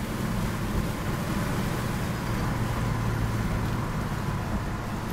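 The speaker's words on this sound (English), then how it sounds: "Does she sound good? This car shifts excellent." A 1968 Plymouth Road Runner's engine drones steadily at about 90 mph with a broad rush of road and wind noise, loud and unchanging throughout.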